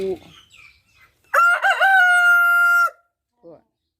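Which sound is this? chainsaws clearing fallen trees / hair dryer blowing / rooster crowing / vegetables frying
rooster crowing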